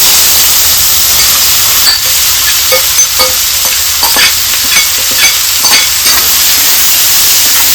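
Three chopped onions fry in about three tablespoons of oil in a home kitchen pan, giving a steady close sizzle and hiss with scattered crackles and stirring scrapes.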